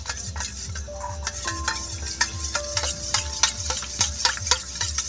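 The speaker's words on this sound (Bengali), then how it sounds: "দিয়ে এটাকে ভালো করে হালকা হাতে গুলে নেব" A spoon stirs a spoonful of powder into tomato soup in a pot, with repeated light scraping strokes and soft metallic clinks against the pot over a faint background sizzle.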